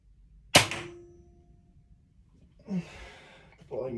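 Crossbow shooting a bolt: one sharp snap with a brief ringing tail, followed by breathy sounds and a short voice.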